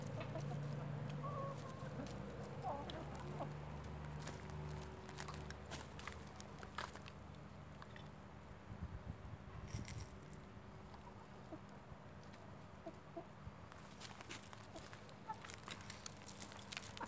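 Hens clucking in a farmyard pen, a steady chorus of soft clucks heard fairly close over constant background noise, with occasional rustling and footsteps.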